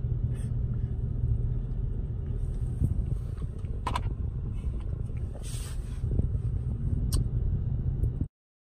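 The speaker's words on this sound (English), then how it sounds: "look at all that traffic" Steady low rumble of road traffic flowing past, a continuous broad roar with occasional brief higher swishes of passing vehicles, no talk over it.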